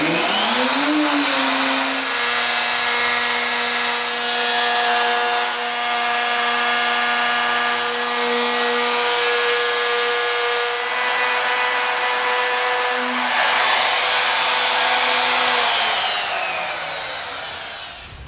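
A wood router or CNC machine cutting a heavy-duty workbench top, a loud steady high whine with shifting tone as the bit moves through the wood, running continuously and winding down at the end.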